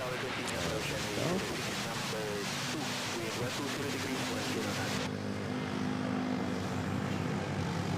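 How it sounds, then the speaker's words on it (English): A Cebu Pacific Airbus A330neo arrives at Manila airport, its steady jet roar filling the air at close range, with voices talking over it and the noise thinning partway through. "we have now a Cebu Pacific A330neo arriving from Tokyo Narita"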